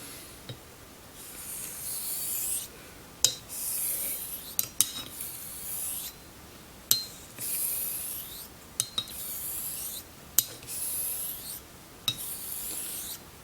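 Blade strokes rasping across a whetstone while sharpening a Wakasa Asagi knife, a run of repeated scraping passes with sharp clicks between them, close and alone with no talking.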